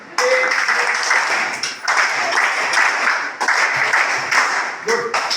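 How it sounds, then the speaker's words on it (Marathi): Audience applause at a community gathering of a disability and elderly support association's branch, steady broadband clapping from a crowd lasting several seconds with brief dips in between. "तुम्ही टाळी वाजू करायचंय"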